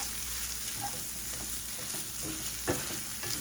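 Corned beef mixture stirred in a frying pan on a stove turned down, a steady close sizzle with scraping stir strokes and a sharp clack near the end.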